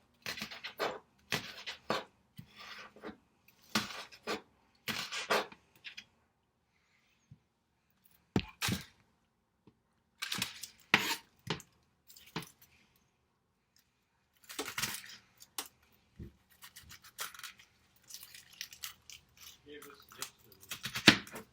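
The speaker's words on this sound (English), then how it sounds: "I'm going to cut up just a few more of the onions to go with that salad." Knife cutting onions on a board for a salad, a series of sharp close chopping knocks in irregular bursts with short pauses, fairly quiet overall.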